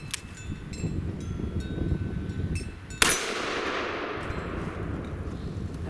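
A Smith & Wesson 329 PD .44 Magnum revolver with wood grips fires one loud, sharp shot outdoors. The crack decays slowly, and steady wind noise buffets the microphone before and after.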